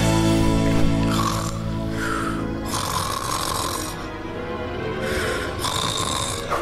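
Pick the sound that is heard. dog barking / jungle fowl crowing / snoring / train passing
snoring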